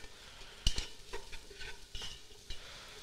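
Garlic and onions fry in a pan with a soft, steady sizzle, broken by a sharp utensil clink and a few scraping stirs, close and fairly quiet with no talking.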